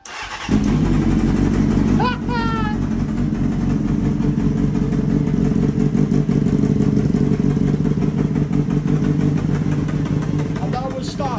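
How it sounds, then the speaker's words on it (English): A Honda Hornet motorcycle engine starts and runs steadily at idle, loud and close, with a rough, sputtering exhaust note from leaks in several places throughout. "Yeah, the exhaust in multiple areas is blowing."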